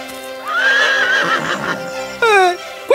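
A horse neighs loudly and close, a long rising whinny followed by a sharp, quivering second neigh near the end, with no voices.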